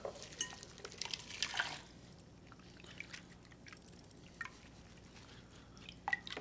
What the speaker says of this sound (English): So again, just simply strain out the water.